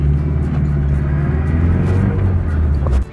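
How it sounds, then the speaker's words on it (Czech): Rear-mounted engine of a Škoda 120L running steadily while the car drives slowly toward a busy intersection, a continuous low rumbling drone heard close and fairly loud throughout. "On ten zvuk motoru, jak se ozývá zezadu"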